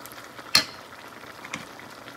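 Shrimp paste frying in soybean oil gives a faint, steady sizzle with one sharp pop near the start and a softer pop a second later. No talking.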